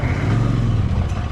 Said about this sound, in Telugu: Truck passing.